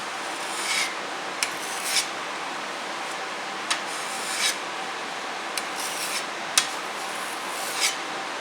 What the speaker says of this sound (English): We'll sand the rest of it.